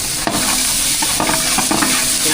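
Ginger garlic paste sizzles steadily in hot oil in a frying pan, with a continuous frying hiss and a few distinct scrapes and clinks of a spoon stirring it around.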